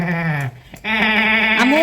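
A goat gives two loud, wavering bleats close by, separated by a brief pause, each a strained, buzzing cry.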